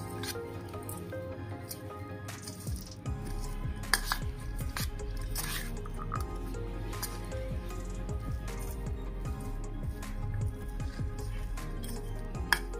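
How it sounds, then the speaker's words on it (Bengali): Sago cutlet mixture kneaded firmly by hand in a bowl with the other ingredients, a steady run of soft wet squishing and slapping with small drips and scrapes, close and continuous with no talking. "এবার সমস্ত উপকরণগুলোকে ভালোভাবে মিশিয়ে নিচ্ছি"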